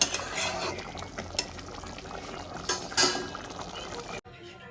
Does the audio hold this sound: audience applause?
no